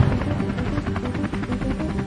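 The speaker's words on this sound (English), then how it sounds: "Mid-air, the helicopters start switching positions, again and again." Helicopters flying a presidential decoy formation, swapping positions mid-air, give a loud, steady rotor thumping that pulses evenly throughout with no voices.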